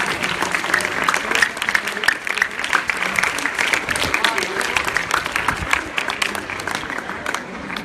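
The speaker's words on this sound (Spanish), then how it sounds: "Y otro fuerte aplauso para sus compañeras" A school crowd applauding students during a wellbeing event, sustained dense clapping throughout at close-to-moderate distance, with voices mixed into the crowd noise.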